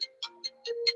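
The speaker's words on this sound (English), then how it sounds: "That phone's calling." A phone rings with an incoming scam call indoors: a short run of repeated electronic tone bursts, close and fairly clear, with no talk over it.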